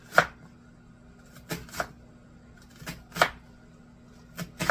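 A knife slices through an onion on a board, several sharp cuts spaced irregularly, close and fairly quiet, with no talking.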